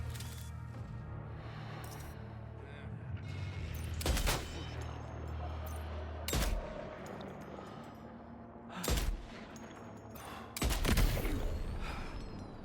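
Gunfire in the video game Death Stranding 2, fired in several separate bursts of sharp shots spread over the stretch, loud against a low background hum.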